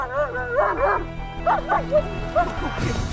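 A trained police-style attack dog barks and yips loudly at close range in quick bursts, with whimpering tones between barks.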